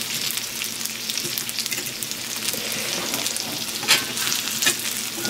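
Impossible plant-based meatballs fry in a cast iron pan with a dense, steady sizzle and crackle close up, broken by a couple of sharper spits or turning noises, and nobody talks.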